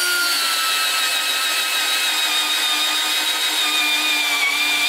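An NRT Pro DC740 brushless impact drill bores into wood with a loud, steady high-pitched motor whine, close up and without talk, holding an even tone throughout.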